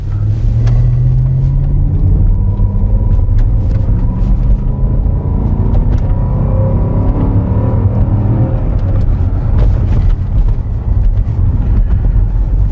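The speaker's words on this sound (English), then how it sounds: "So let's go ahead and run this car" A 2013 Land Rover with a 5.0L engine and an idle-type fault runs steadily, a loud continuous low rumble and whir with a slight rise in pitch early on, and no talking.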